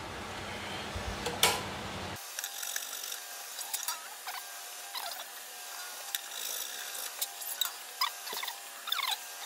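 Tuning machines on a Godin 5th Avenue Wild Cherry archtop guitar are turned repeatedly to tighten the strings, giving a fine, continuous ratcheting, clicking patter up close after a brief louder noise at the start.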